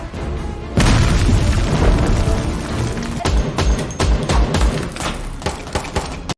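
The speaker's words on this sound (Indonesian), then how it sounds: "langsung menghujani Joe dengan selongsong peluru tajam." Two heavily armed women open fire on a man in an action film, producing a loud, dense barrage of booming shots and bursts that runs almost continuously.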